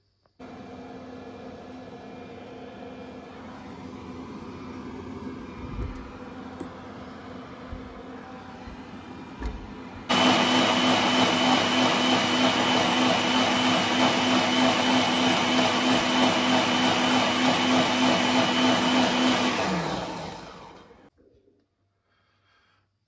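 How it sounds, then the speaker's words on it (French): Mambo Habana 12090 kitchen robot: a quiet motor hum with light clicks for ten seconds, then a loud, steady high-speed whirring as ingredients are mixed, which winds down and stops near the end. "Et puis on va mixer"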